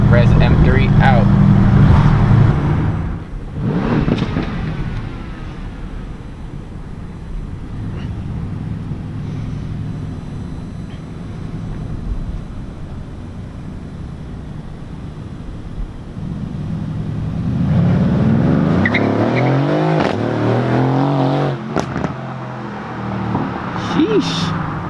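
A Mercedes-AMG C63 S fitted with an AWE Track exhaust drives past, its loud engine note building, fading and rising again as it makes repeated pass-bys.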